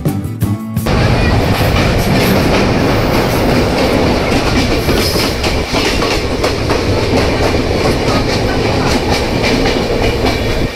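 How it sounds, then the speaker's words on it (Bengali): The 13147 Uttarbanga Express running on rails near Dakshineswar makes a loud, close, continuous rumble with rhythmic clickety-clack of wheels over rail joints. "আমাদের ট্রেন তার যাত্রাপথে 13 কিলোমিটার অতিক্রম করে এসে পৌঁছালো তার প্রথম হল্ট স্টেশন দক্ষিণেশ্বরে"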